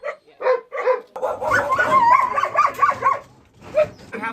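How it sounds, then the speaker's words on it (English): Caged dogs at a South Korean dog meat farm bark, yip and whimper loudly, a cluster of overlapping close barks followed by scattered single yelps. "it's 24 hours a day, 7 days a week that these dogs are in these cages"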